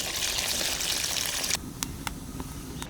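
Water is poured into a pan of cooking beef lung with a loud, close rush that stops abruptly, followed by a few faint drips and ticks.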